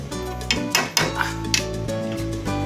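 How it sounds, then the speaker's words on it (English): Clams tossed into a cooking pot clatter against the metal and each other, a quick cluster of hard clicks and knocks over a steady simmering hiss. "So at this point, I'm gonna throw the clams right in."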